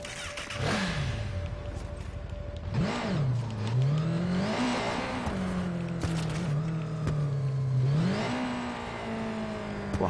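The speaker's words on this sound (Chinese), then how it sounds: "这里好像有台摩托车，我要把它骑出去" In the video game Watch Dogs 2, a motorcycle engine revs repeatedly. Its pitch swings up and down in several surges over ten seconds, with game ambience underneath and no talk.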